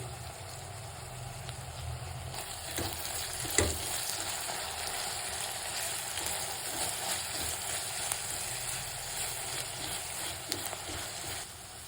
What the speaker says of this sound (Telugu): కొద్దిగా ఉప్పు యాడ్ చేసుకుందామండి త్వరగా ఉల్లిపాయలు మగ్గడానికి.